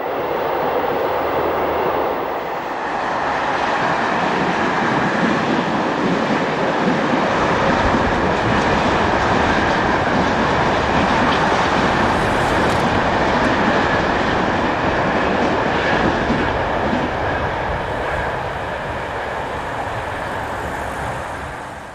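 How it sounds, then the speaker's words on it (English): A block freight train loaded with cars runs along the avoiding lines at the northern edge of Somain yard, its loud, continuous wheel rumble and wagon clatter building and holding for the whole pass before easing at the end. "Block freight trains such as this load of cars do not call at Somain, but use the avoiding lines along the northern edge of the yard"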